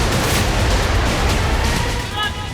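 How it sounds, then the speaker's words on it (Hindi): Artillery and rocket launcher fire in fighting between Thailand and Cambodia, a dense run of loud booming blasts and rumbling detonations, close and continuous, with a voice faintly present. "फाइटर जेट, तोप, रॉकेट लॉन्चर से वार पलटवार।"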